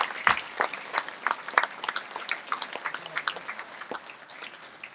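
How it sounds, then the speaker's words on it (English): Audience applause at an NHRA North Central Division awards ceremony, honoring a race winner; scattered, moderately loud clapping with uneven bursts that thins out over a few seconds. "a round of applause for our Comp Bonus Award race winner this year"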